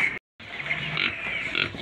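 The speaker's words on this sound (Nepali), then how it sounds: "यस्तो छ यो सुँगुरको नाम चाहिँ मलाई थाहा भएन" Grunting from a pig on a farm, a dense, rough snorting texture that runs almost continuously at close range, broken by one brief gap.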